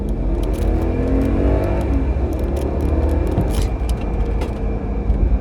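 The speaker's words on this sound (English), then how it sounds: "I love the sound of this engine. The naturally aspirated V8 in it sounds incredible." Mercedes G-Wagon with a naturally aspirated V8 accelerating at full throttle, a loud close engine roar with rising, layered tones that continue steadily, with road and wind noise and no speech.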